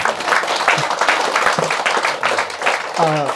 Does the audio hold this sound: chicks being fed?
no